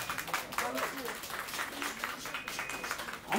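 Audience applause at a televised psychic-show stage performance, a dense broadband patter of clapping that carries steadily through the clip, with some voices mixed in beneath it.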